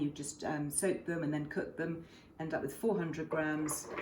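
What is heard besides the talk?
No everyday noise stands out behind the speech.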